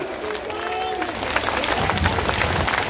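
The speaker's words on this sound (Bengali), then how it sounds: "জোরে তালি দেন" A crowd at a political rally claps and cheers, a dense wash of applause that swells and grows louder over a few seconds, with a voice briefly audible at the start.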